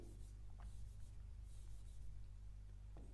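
Pen or marker scratching on a board during a lecture on multi-plate clutch design, soft rubbing strokes over a constant low electrical hum, with no talk.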